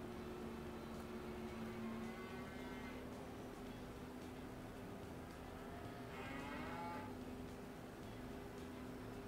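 Cattle in the video game Farming Simulator 22 give two drawn-out moos, one around the middle and another later, over a steady low background hum.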